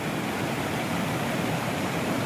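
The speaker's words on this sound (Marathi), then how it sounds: "ओढा किती वाहतोय बघा ओसंडून" A swollen stream overflows a roadside bridge after hours of heavy rain, producing a dense, steady roar of rushing water, loud and unbroken throughout, with no voices.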